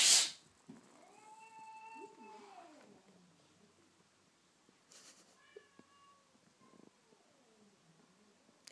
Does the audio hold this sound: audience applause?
no